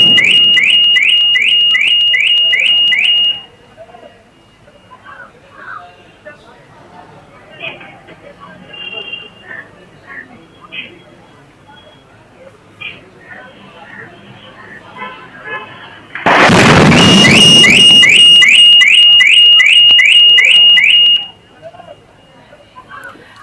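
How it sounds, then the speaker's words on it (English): Vehicle alarm set off by an explosion in Prashant Vihar, Delhi, caught on CCTV: rapid repeating electronic beeps, cut off, then a loud blast-like burst and the beeping resumes, with a presenter talking over it. "that alarm of the vehicle was triggered after that explosion"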